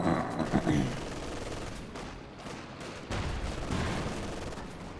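Mortar shells fall across a Company of Heroes 2 battlefield, a dense spread of fairly faint thuds and crackling bursts under general combat noise, with a louder rumbling patch near the end.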